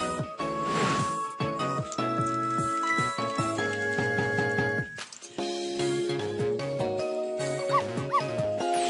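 Dog barks in the video game Ghost Trick: Phantom Detective, short yips and woofs sounding over steady, layered game music that continues throughout.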